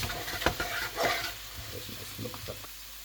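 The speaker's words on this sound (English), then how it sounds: "I'm just going to stir that in, and it's just going to speed up, expedite that caramelization process" Bean curry base stirred in a pan gives soft scraping strokes over a low, constant sizzle of frying, fairly quiet and close, with no voices.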